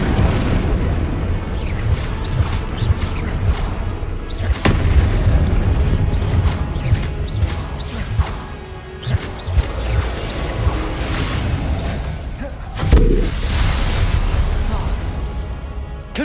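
In Hogwarts Legacy, Confringo blasting spells set off a dense, continuous run of loud booming explosions and crashes, with bursts layered over one another for the full stretch and only brief dips.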